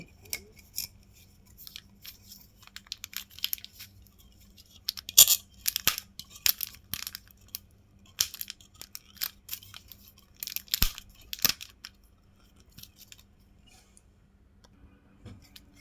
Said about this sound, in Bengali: দেখুন আপনাকে দেওয়ার আগে আমি এই ইনটেক ক্যানটি খুলছি।